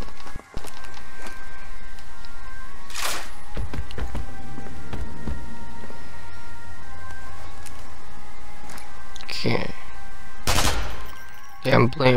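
Gunfire in Zombie Army Trilogy: a few loud, sharp gun blasts ring out at intervals over a steady game background, with scattered clicks and taps between the shots.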